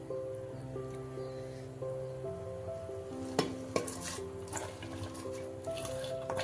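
Chopped onion and two green chilies sizzle steadily in a hot cooking pan, with a couple of sharp utensil clinks partway through and soft steady musical tones underneath.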